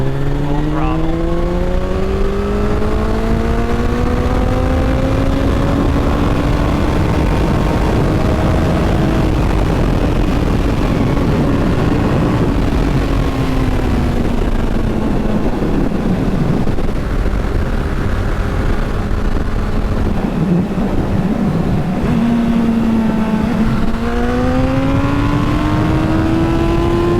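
A Suzuki Bandit motorcycle fitted with a jet kit, recovered from a wreck, goes to full throttle. The engine roars loud and close, rising through revs, dipping as it shifts gears, then climbing again under heavy wind noise.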